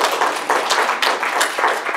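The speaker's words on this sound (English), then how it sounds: "Please give Grandma a round of applause." A game-show audience applauds a contestant's grandmother, a dense, steady wash of clapping held at a loud level for about two seconds with no voices on top.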